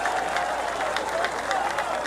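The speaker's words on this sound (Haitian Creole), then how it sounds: "demandez pour nous applaudir, merci" An audience claps continuously in a dense, steady burst of applause at a political gathering, with a faint voice underneath.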